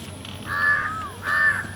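Two loud, close caws from a crow, each a drawn-out harsh call with a short pause between them, heard alone without talk.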